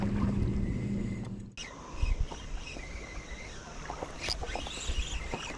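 Small waves from passing boats slap and splash against a paddle board out on the sea while fishing, a near, uneven run of watery knocks and sloshes over steady wind and water noise.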